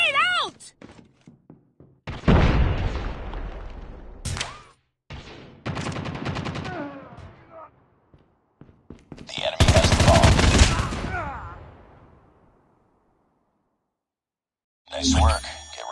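Call of Duty Mobile gunfire in bursts, with sharp shots, machine-gun rattles and a thudding grenade blast, separated by brief quiet gaps, with game voices calling out between them.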